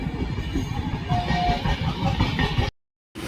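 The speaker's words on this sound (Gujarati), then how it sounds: "ટ્રેન આવી ગઈ છે" A train rumbles into a station, a loud, close, steady rolling roar with faint wheel clatter that runs for nearly three seconds before cutting off abruptly.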